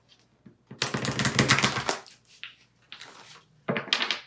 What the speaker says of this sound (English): we're going to do another shuffle for good measure